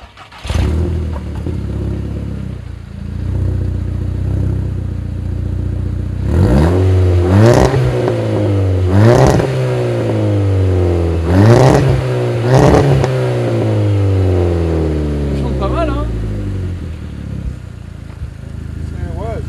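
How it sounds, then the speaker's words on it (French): A Volkswagen Golf 5 GTI Edition 30 engine revs repeatedly in neutral, several sharp rises in pitch and volume that fall back between bursts, close and loud, with no talking. "il faut se mettre au neutre et accélérer à fond"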